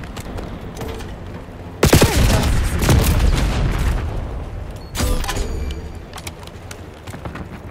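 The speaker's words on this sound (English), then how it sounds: "Napalm strike incoming." Napalm strike explosions in Black Ops 6 multiplayer, two heavy booming blasts that erupt suddenly and roll with crackling debris, over continuous background gunfire rumble.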